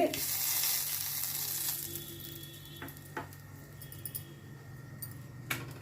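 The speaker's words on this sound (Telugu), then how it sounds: "బాగా కాగిన ఆయిల్లో కరివేపాకు వేద్దాము" Curry leaves hit hot oil in a pan with a burst of sizzling that is loudest at first, then settles into quieter crackling with a few sharp pops.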